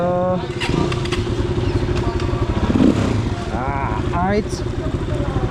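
Motorcycle ridden on a mountain road toward Dhorpatan in Nepal, its engine a steady close rumble throughout, with voices speaking over it.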